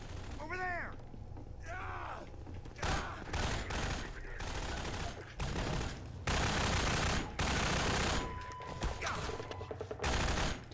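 Gunfire from the Half-Life 2 video game rattles in dense bursts of shots and automatic fire, with bird-like cawing calls early on and a brief tonal beep later.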